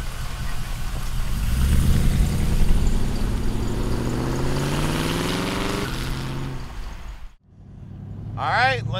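A 1933 Ford street rod fitted with a Corvette engine, transmission and suspension rumbles nearby. Its steady idle climbs into rising revs, then drops away before a sharp whining rev near the end.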